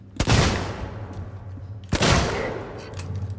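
Two loud gunshots in the survival horror game Alien: Isolation, played on Nightmare mode, each a sharp blast with a long decaying tail, about two seconds apart, over a steady low hum.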